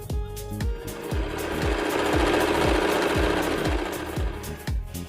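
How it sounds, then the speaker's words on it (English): A domestic sewing machine runs a regular straight stitch through folded fabric for a turban headband. Its needle thumps in a fast, even rhythm over a loud motor whir, close up with no talking. "I will fold the fabric in half like this and sew here using regular stitch."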